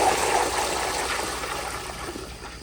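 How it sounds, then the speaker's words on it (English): A 1970s American Standard Baby Devoro toilet flushing at full pressure, a loud continuous rush of water that starts strong and tapers slightly, close by with no talking. "So here's another flush on full pressure."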